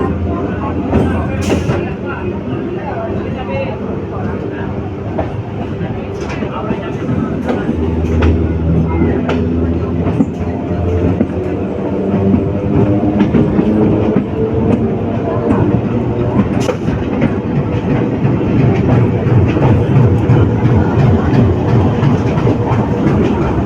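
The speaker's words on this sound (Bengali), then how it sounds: "ব্যান্ডেল স্টেশনে কিছুক্ষণ দাঁড়িয়ে থাকার পর হাওড়া লোকাল চলে এলো" A Howrah local train at Bandel station gives a loud, continuous low rumble with clattering wheels and wagon noise, close by and building slightly toward the end.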